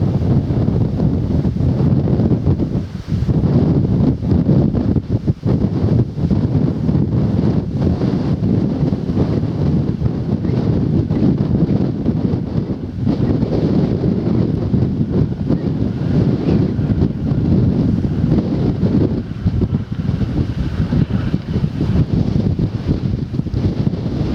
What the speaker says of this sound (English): Far too windy